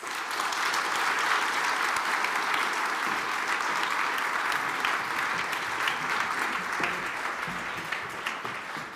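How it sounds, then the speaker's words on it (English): A large audience at a women's wellbeing summit applauds a panel, a dense, steady wash of clapping that holds for the whole span and fades slightly at the end, with no talk over it. "give you all a round of applause"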